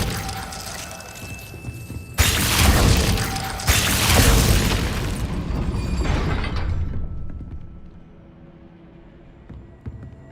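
A Glacius freezing spell cast in the Hogwarts Legacy video game, a sudden loud crackling burst with icy shattering texture that swells for a few seconds, then tails off into quieter ambience.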